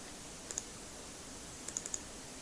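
Computer keyboard keys clicked faintly and close while working in an Excel spreadsheet, one pair of taps and then a quick cluster of three or four light clicks over a quiet background hiss.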